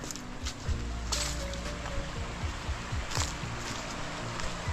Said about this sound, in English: Right up to a creek down here.